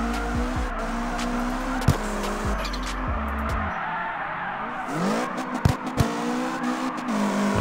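A car drifting in the mobile game CarX Drift Racing, with a steady loud engine drone and shifting revs, sliding tire squeal, and a couple of sharp knocks.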